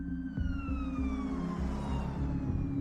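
An ambulance siren wails with a steady rising and falling tone, loud and close, over a low rhythmic pulsing rumble, with no voices.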